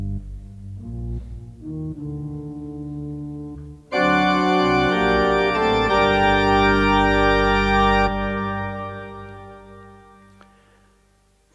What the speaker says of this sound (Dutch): Zonder pedaalkoppels klinkt het bijvoorbeeld zo.